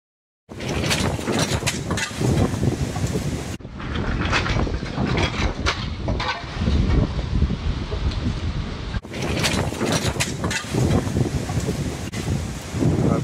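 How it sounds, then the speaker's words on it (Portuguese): Strong cyclone winds in Santa Catarina, southern Brazil, roaring loudly and continuously across the whole stretch, buffeting the microphone with gusts that rise and fall. "o vento vem e vai, né? Fica fraco, fica forte."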